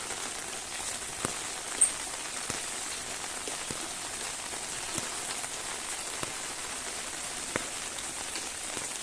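Steady rain falls outdoors after a long dry spell, a constant even hiss of drops striking surfaces. A few sharper drips and taps stand out now and then, and nobody speaks.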